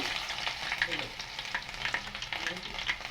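Chopped ginger sizzles and fries in hot oil in a pan for a chicken curry, a steady crackling hiss broken by repeated scraping stirs of a spoon against the pan.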